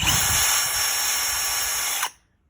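A power drill whirs steadily at close range for about two seconds as it bites into metal, then stops abruptly, leaving silence.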